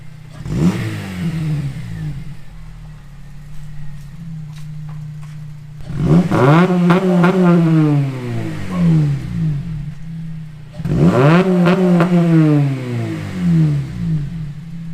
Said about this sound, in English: give her a little rev for me so I can hear it